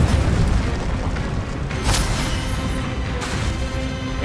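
An Incendio fire spell cast in the Hogwarts Legacy video game: a dense, roaring blast of fire with a sharp burst near the two-second mark, loud and continuous throughout.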